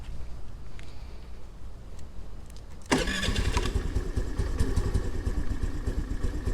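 A 2022 Honda NAVI motorcycle engine cranks and catches partway through, then settles into a loud, steady idle with mechanical clatter, close to the microphone after a quieter stretch.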